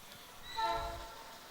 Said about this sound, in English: Train running in behind us back here.